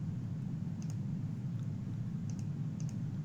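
A few faint, sharp computer mouse clicks land sparsely on an on-screen button during a PowerApps custom-filtering demo, over a steady low room hiss.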